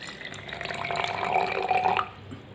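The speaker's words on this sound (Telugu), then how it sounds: "వాటర్ తీసుకొని ఈ జార్లో పోయండి" Water is poured from a container into a jar holding coins, a continuous splashing trickle that swells for about two seconds and then stops abruptly.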